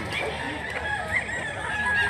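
A black-legged rooster of about two kilos, roughly two years old, gives soft clucks and murmurs close by, with faint background voices and ambient noise throughout.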